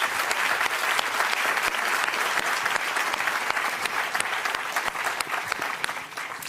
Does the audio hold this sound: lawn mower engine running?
no